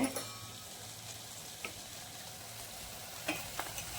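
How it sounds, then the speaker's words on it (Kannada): Malabar spinach with asafoetida frying in a pan gives a soft, fairly faint sizzle with a few light clicks of a spoon against the pan and no speech. "ಫ್ರೈ ಮಾಡ್ಕೊಳ್ಳಿ"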